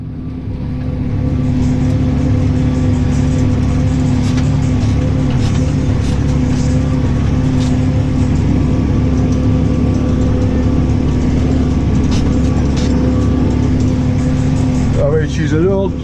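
An old plough is dragged through grass by a tractor that is a bit big for it, the engine droning loud and steady at close range, with a brief shift in pitch near the end.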